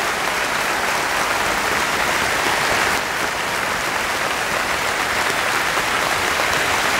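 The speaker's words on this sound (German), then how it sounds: "Geef ze nog een enorm applaus." Loud, dense applause from a large audience after a performance of the opera Hänsel und Gretel at the Efteling, a continuous even roar of clapping that holds steady throughout.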